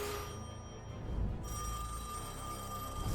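A telephone ringing, heard as a steady sustained tone set against a dense, loud background wash, with no talking.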